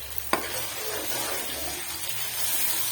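Ginger-garlic paste hits cooked onions in a hot pan for a masala fish curry, giving a continuous hissing sizzle with one sharp clink near the start and no talk.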